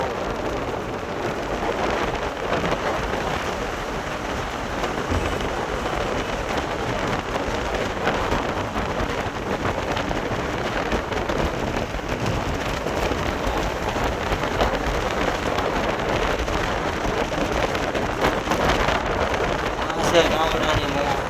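Steady rain falls along a roadside by open farm fields near Rajkot, a continuous even hiss of drops with faint wind buffeting the microphone throughout.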